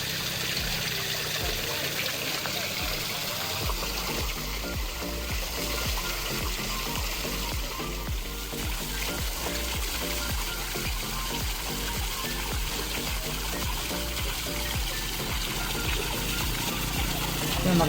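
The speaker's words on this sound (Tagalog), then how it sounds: "Maganda naman yung flow ng ating waterfalls. Yung bagsak ng tubig ay okay naman." Water from a semi-natural garden waterfall at a restaurant pours and splashes steadily as a continuous broadband rush, with speech heard faintly over the flow throughout.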